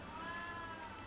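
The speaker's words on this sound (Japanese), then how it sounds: "服を着ている猫さんはですね、避妊手術を終えたばっかりだそうで" A cat in a cat cafe gives a single faint, drawn-out meow over a hissy background.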